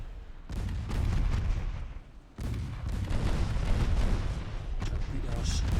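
Warship in the Ultimate Admiral Dreadnoughts naval game launches torpedoes amid battle noise: heavy booming gunfire and rumbling blasts, loud and repeated, with a brief lull before resuming.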